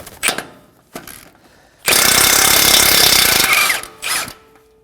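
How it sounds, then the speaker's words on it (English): A power tool, likely an impact wrench with a 19mm socket, zips off a nut on the front steering of a Nissan Armada: a loud sustained rattling burst of about two seconds, framed by shorter clicks and bursts before and after. "we're going to go ahead and remove the nut"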